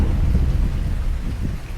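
Heavy rain drums loudly and steadily around a parked Tesla car, with a continuous low thunder rumble underneath; dense and close, no voices.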